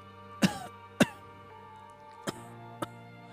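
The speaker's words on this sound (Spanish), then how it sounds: "Alejandro empezó a toser y espasmos retorcieron su cuerpo en una dolorosa convulsión." A dramatized coughing fit for an audiobook: two sharp, loud coughs close together, then two lighter coughs after a short pause, against a quiet tonal background.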